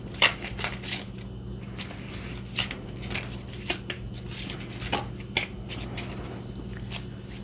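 Tarot cards being shuffled in quick, crisp riffles and taps, close by, repeating irregularly over a low steady background hum.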